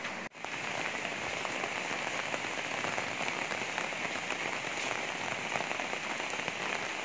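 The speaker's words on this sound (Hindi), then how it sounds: "बाहर बारिश बहुत ज़्यादा तेज़ हो रही है।" Heavy rain in Wuhan pours steadily onto hard surfaces, a dense unbroken hiss of drops, loud and close, after a brief knock at the start.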